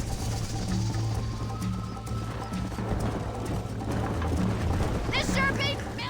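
Horse hooves gallop in a steady clip-clop rhythm through a Red Dead Redemption ride, close and continuous beneath a low music bed, with character voices talking over it.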